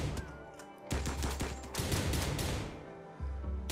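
Gunfire in the colony-building video game Rimworld: a loud, sustained fusillade of overlapping shots in several waves, with brief lulls between volleys and no talk.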